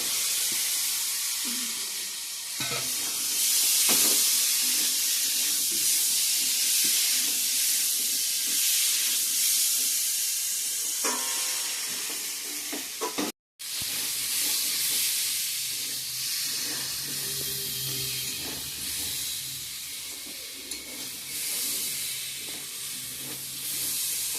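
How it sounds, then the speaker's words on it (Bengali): Fried potato and pointed gourd sizzle in spice paste in a pan, giving a continuous hissing fry with occasional stirring scrapes and a brief break partway through. "মশলার সাথে আলু পটলটা ভাজা হয়ে গিয়েছে"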